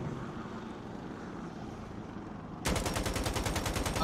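An Apache helicopter in the video game Insurgency Sandstorm: a steady rumbling drone that suddenly turns into a loud, rapid rhythmic rotor thumping, with no one speaking.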